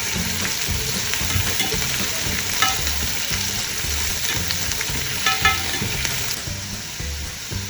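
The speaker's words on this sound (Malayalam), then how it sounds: "കുറച്ച് ഓയിൽ കുറച്ച് ഉള്ളി വറുത്ത്" A steady loud sizzle of sliced onions frying in oil for mutton biryani fills the whole stretch, with occasional crackles and pops.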